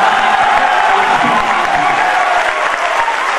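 Sustained audience applause at a Hindi poetry recital, a dense, steady wash of many hands clapping in a hall, loud and continuous for the whole stretch with a faint voice beneath.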